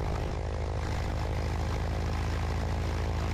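Steady, loud droning propeller engine of a Cessna 172B during its run-up check with carburettor heat on, a continuous close-up hum with no talk over it.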